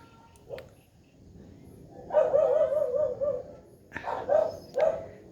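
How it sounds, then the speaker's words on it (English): Several dogs bark excitedly in repeated bursts, a volley in the middle and more sharp barks toward the end, fairly close. "The dogs are going ballistic at the gate"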